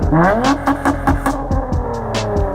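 An Acura TL's 3.2-liter J32 V6 engine revving up loudly nearby, pitch climbing and dropping through several surges with a throaty, rumbling tone.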